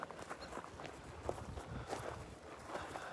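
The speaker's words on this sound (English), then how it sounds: "You hear all my footsteps?" Soft footsteps on an outdoor path on a morning walk at Magdala, a steady series of quiet, close steps with no talking.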